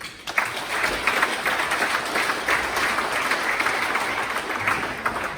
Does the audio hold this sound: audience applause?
yes